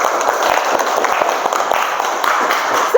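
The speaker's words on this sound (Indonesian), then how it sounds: "tepuk tangan dulu biar lebih semangat" Classroom students clap together in a short burst of applause, dense and even, filling the moment before the teacher resumes.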